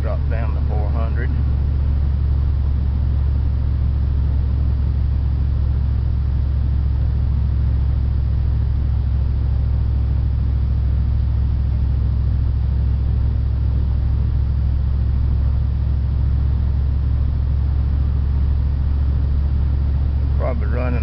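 Vehicle engine at about quarter throttle cruising near 55 mph, a steady low droning rumble with road noise throughout and faint voices at the very start and end.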